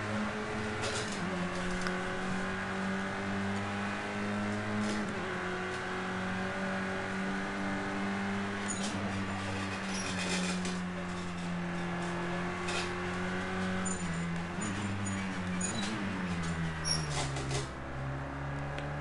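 Touring car engines racing at Oulton Park in Project Cars 2, a steady loud drone with rising and falling revs through gear changes, alone without talk.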